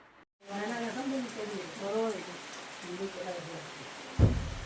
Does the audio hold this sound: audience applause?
no